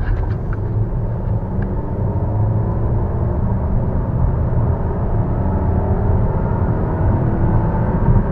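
A Volvo XC90 accelerates hard from inside the cabin, a loud, steady low engine and road rumble that holds without letting up, with no talking.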